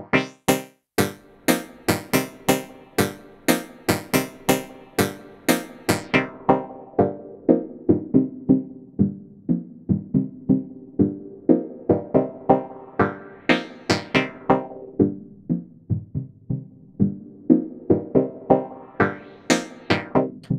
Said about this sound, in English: So you can hear the filtering action actually controls the source tone as well as the verb signal.